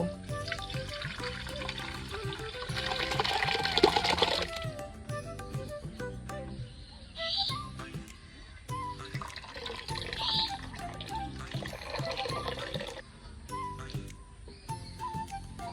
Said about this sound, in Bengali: এবার ছানাটা ছেঁকে নেব